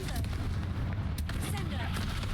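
A Confringo blasting spell bursts in Hogwarts Legacy, a short rumbling explosion with crackling debris, loud and close, trailing off over a couple of seconds.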